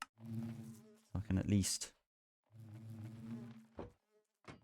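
Bees in a video game buzz in a steady droning hum in two long stretches, with a person talking over part of it.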